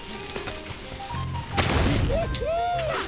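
A Mega Bomb explosion in the video game Skylanders: Spyro's Adventure bursts into a loud, sustained boom with crackling debris, followed by whooshing game effects over a continuous background of game sound.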